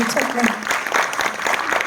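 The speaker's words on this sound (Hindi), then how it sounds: "इनके लिए एक बार इतनी ज़ोर से तालियां बजाइए" An audience at a musical evening claps for child singers, a rhythmic burst of applause with a voice speaking over it.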